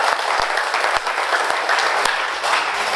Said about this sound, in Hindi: और अब एक बार जोरदार ताली टेंशन अप के लिए।